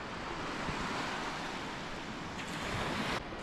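Surf rolls steadily onto a wide open beach on the Wildside Trail of Flores Island, a continuous broad wash of waves with some wind, loud and close.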